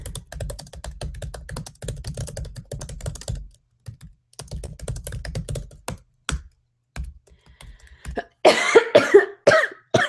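Rapid keyboard typing clicks in bursts, followed by a couple of sharp, close coughs near the end.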